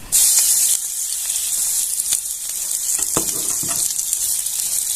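Onion frying in a pan for paneer tikka masala: a loud burst of sizzle at the start settles into a steady, close hiss. A few soft clicks and stirring scrapes break through, with no talk.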